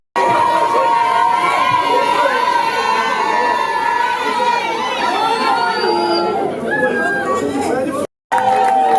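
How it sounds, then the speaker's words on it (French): Wedding guests at an official ceremony cheer, shout and chatter loudly in a dense, excited crowd roar with children's voices rising through it, broken by a brief gap of silence near the end. "On applaudit pour lui, s'il vous plaît."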